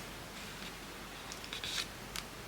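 Scissors cutting fabric for a pocket, a few faint, quiet snips in quick succession over a low background hiss, the crisp closing cuts clustered near the end, with no talk.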